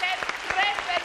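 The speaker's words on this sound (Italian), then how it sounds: "applauso per Valeria che si spende sempre" Studio audience applause on an Italian TV variety show, a short burst of steady clapping with voices and a tonal sound running over it.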